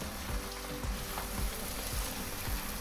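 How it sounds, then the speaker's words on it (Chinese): Chicken pieces stir-frying with ginger in a pan over high heat give a steady, close sizzle, with soft scrapes and knocks of stirring every half second or so. "咁之後就落埋啲雞落去炒"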